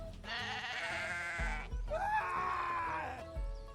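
Two long, loud goat bleats in the freeDive video game, one after the other with a short gap between them, no talking.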